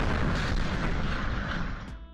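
The 2013 Chelyabinsk meteor explosion over Russia caught by a car dash cam, a dense rumbling roar of broad noise that holds steady and then tapers off near the end, distant yet heavy.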